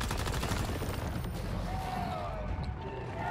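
Rapid automatic gunfire in the survival shooter Once Human, a dense stream of shots fired in quick rhythm that fades toward the end, with faint game sounds behind it.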